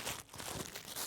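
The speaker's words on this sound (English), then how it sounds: "Break the seal and shuffle the cards as much as you like." The paper seal on a deck of playing cards tearing open at a live magic show, a short, close burst of crinkling and ripping lasting about a second, with no talk.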